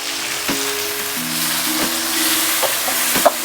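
Tomatoes frying with okra masala in a pan make a steady, close hiss and crackle, with a few spoon knocks against the metal and a brief low hum underneath, all continuous and without speech.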